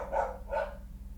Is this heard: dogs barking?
yes